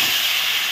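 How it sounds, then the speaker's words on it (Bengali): Potatoes fry in hot oil, giving a steady, bright, close sizzling hiss with no talking over it. "এখন আলুটা ভেজে নেব।"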